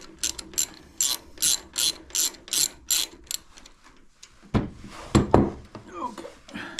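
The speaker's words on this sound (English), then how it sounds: "I want to take this bolt off." A hand ratchet wrench removing a bolt from the rear brake of a 2019 Harley-Davidson Softail Slim, giving a close, steady run of rhythmic pawl clicks followed by a few heavier metallic clunks as the bolt comes free.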